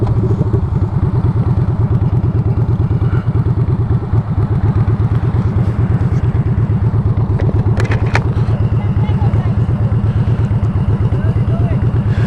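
A motorcycle engine drones steadily at close range throughout, with wind rush and occasional clatter over the constant low rumble.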